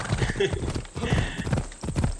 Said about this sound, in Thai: ผมนี่ชอบควบม้าติดหินตลอดเลย